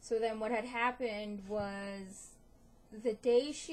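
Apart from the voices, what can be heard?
None of the usual background noises is heard.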